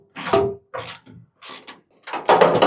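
A nut is tightened with a ratchet while a hood safety pin kit is mounted on a 1967-1972 Ford F100. There are four or five close, crisp bursts of ratcheting clicks separated by short pauses.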